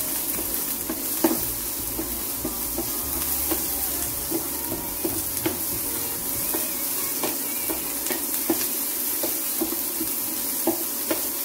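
Onions frying in a pan for a quick poha upma breakfast, with a steady sizzle and repeated light scrapes and knocks of a spoon stirring, close and alone with no talk.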